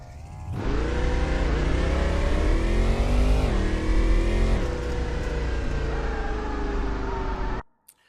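A car engine revs hard and close during a garage test-and-tune session, a sustained loud roar that climbs and wavers in pitch before cutting off abruptly.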